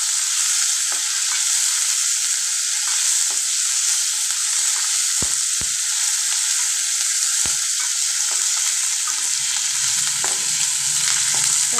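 Cumin seeds and curry leaves sizzle and fry steadily in a hot pan, a continuous bright crackle with occasional soft stirring taps, close and unbroken throughout.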